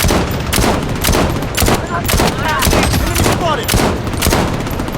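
Rapid, loud gunfire from an SVD sniper rifle in the shooting game Blood Strike, with shots fired in quick succession throughout and a faint voice underneath.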